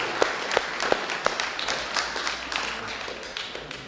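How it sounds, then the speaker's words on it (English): Scattered applause from middle school students, staff and parents at a school committee meeting, with a few distinct near claps standing out at first, then thinning into lighter, uneven clapping. "Let's give a big round of applause to all our middle school students, staff, and parents."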